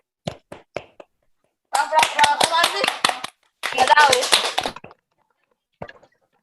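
A few participants in an online webinar clap in scattered short bursts, thin and uneven, with voices mixed in between the claps.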